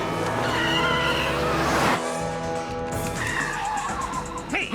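Cartoon car tires skid and squeal loudly during a chase that ends with the car hitting a fruit vendor's push cart, a long screech followed by further sliding squeals and clatter, with no talk.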